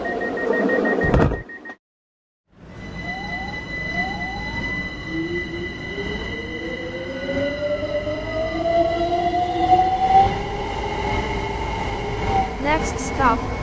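A light rail train in Minecraft runs along the track with a steady electric motor whine rising in pitch as it accelerates, a short door chime and brief silence early, and an automated voice announcing over it.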